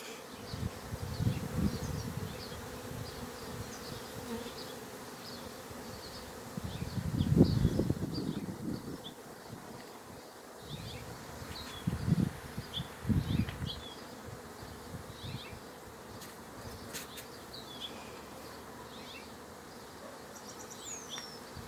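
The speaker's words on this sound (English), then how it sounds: "So this is the swarm that we got out of the swarm trap." A dense, continuous buzzing of many bees fills the air, swelling louder at moments as insects pass close to the microphone.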